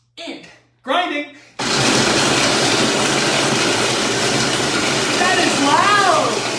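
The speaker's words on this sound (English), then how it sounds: "And then the Ninja blender" A Ninja blender pulses dates and walnuts, its loud, steady grinding roar starting abruptly after brief speech and running continuously to the end, with a faint whistle-like tone near the finish.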